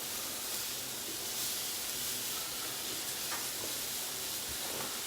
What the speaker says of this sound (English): so our rice is coming to the boil now.